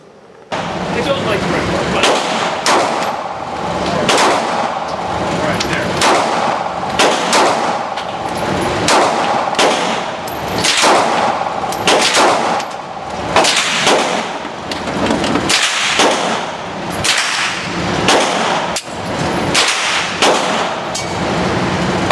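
A compact Kahr PM9 9mm pistol fires repeatedly at a shooting range: sharp, loud reports in an irregular series of single shots and quick pairs, spread across the whole stretch.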